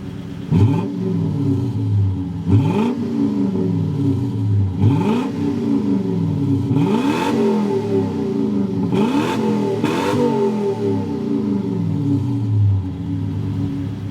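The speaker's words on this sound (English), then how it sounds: "Let me show you guys a little bit around the engine bay, some exhaust clips" A 1991 Lexus LS400 with its 1UZ V8 engine is revved about six times in a steady rhythm, each throttle blip swelling from idle and then falling back, loud and close at the exhaust.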